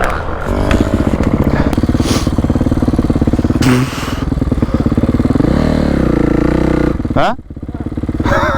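A motorcycle engine holds steady, loud and close, through a track riding session, with brief throttle swells and a dip near the end; a voice speaks briefly over it.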